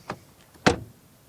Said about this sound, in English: let's test the door closing sound